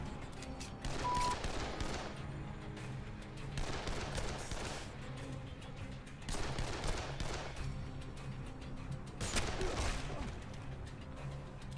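Bursts of gunfire from the zombie game Dead Island, four loud separate volleys spaced a few seconds apart, with lower clattering and rumble filling the gaps.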